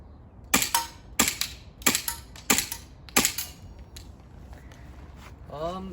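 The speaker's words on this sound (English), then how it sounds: "over here we have the green gas pistol. We're gonna take a few shots down the range over there" Green gas airsoft pistol fired down range: five sharp, evenly spaced snapping shots about two-thirds of a second apart, close and crisp, with a brief voice afterward.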